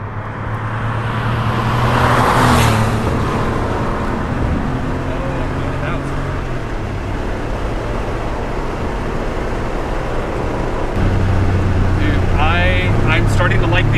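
A car with a 3.2 engine drives along with a steady, loud engine drone and road roar throughout, and the pitch shifts slightly as it changes speed.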